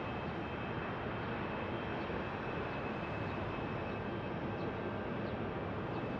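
An Airbus A321 airliner on a repositioning flight at Phoenix Sky Harbor Airport gives a steady, continuous engine roar at a distance, even and unbroken throughout.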